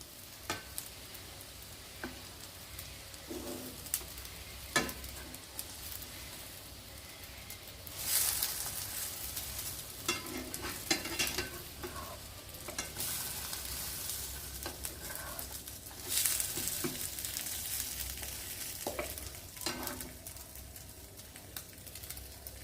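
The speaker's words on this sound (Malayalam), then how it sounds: "മീഡിയം ഫ്ലെയിമിൽ തിരിച്ചും മറിച്ചും ഇട്ട് നമുക്കിതൊന്ന് ഫ്രൈ ചെയ്തെടുക്കാമേ" Bread and egg snacks fry in hot oil over a medium flame, a continuous soft sizzle with occasional clinks and louder bursts of crackling as pieces are turned, no voices present.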